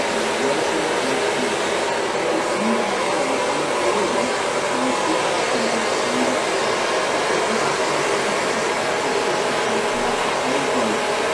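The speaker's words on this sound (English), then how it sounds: "blow dry the ends of the section to make sure the underneath of the hair is dry and fully balanced" A hair dryer blows steadily as hair is dried section by section with a round brush, a constant close whooshing hum without a break, with faint soft voice murmurs underneath.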